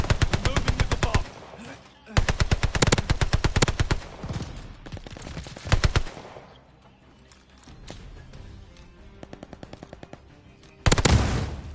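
Shotgun gunfire in the Vanguard video game, loud bursts of rapid repeated blasts in several clusters with quieter gaps between, close and dominant with little else around.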